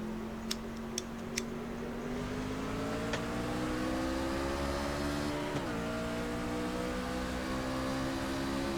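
Race trucks accelerate steadily on the track at a Kentucky truck race, a continuous engine drone rising in pitch with a few sharp ticks near the start.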